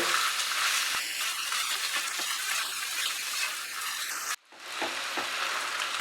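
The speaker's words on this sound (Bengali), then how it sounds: "এবার আমরা মিডিয়াম আঁচে এটাকে রান্না করব আর আদা রসুন আর পেঁয়াজের সঙ্গে ভালো করে ধীরে ধীরে মিশিয়ে নেব।" Chicken frying on a tawa with ginger, garlic and onion over medium heat, a bright, dense sizzle with light stirring, dropping out for a moment near the end before returning.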